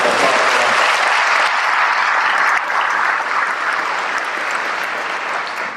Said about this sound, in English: So, have a round of applause